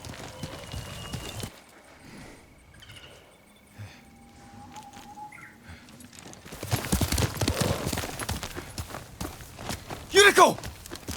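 Hooves clip-clop at a slow walk in the video game Ghost of Tsushima, mid-distance, with quiet ambient sounds early on and a busier stretch of steps toward the end.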